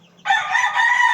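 A stag rooster kept outdoors crows once, loud and close, one sustained ringing call starting after a brief quiet moment, with no talking.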